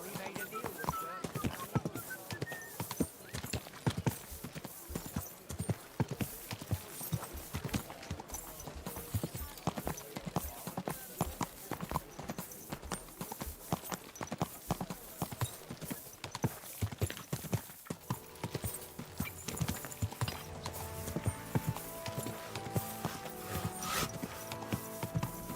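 Horse hooves clip-clop steadily in the medieval game Kingdom Come, a continuous rapid rhythm of fairly faint, close hoofbeats running throughout, with a mix of other game sounds and some talk.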